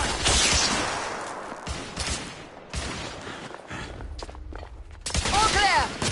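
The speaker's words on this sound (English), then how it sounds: "Lay down suppressive fire!" Sustained suppressive gunfire in The Order: 1886, heavy fusillade of overlapping shots with booming rumble, near and loud throughout, easing mid-clip then swelling again, with shouted voices mixed in.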